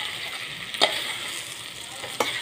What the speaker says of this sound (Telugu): ఇంకా 2 నిమిషాలు కూరని కలుపుతా మూత లేకుండా వేయించుకుంటే కూర సరిపోతుంది